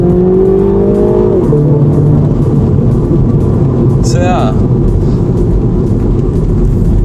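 2021 Mini Cooper S, 189bhp, accelerating hard with its engine revving, a loud rising drone inside the cabin that shifts pitch partway through, with a brief spoken remark over it.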